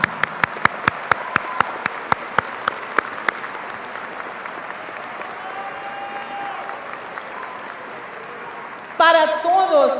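Graduating seniors at the 2018 Cigarroa High School graduation clapping, first a quick run of sharp, evenly spaced claps, then a long swell of dense crowd applause, with a voice coming in near the end.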